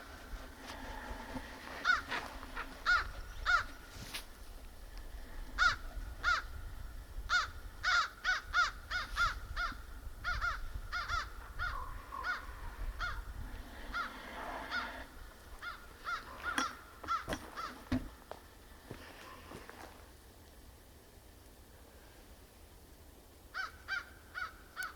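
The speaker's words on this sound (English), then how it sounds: "Literally, I think it was 3 crows and 3 ravens." Crows cawing repeatedly in Australian bush, loud harsh calls in rapid bursts and overlapping series, some pauses between, against a quiet outdoor background.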